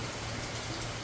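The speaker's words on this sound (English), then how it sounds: "Is it raining today, Joe? It is raining, huh?" Steady rain falling just outside a porch, a continuous even hiss of drops on surfaces with no breaks, moderately loud and close.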